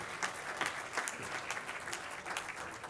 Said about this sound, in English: Let's give one more round of applause to our Beautiful Home Award winners.